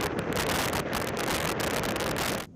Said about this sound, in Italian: un vento fortissimo che smuove l'acqua e gli alberi circostanti con i rami caduti a terra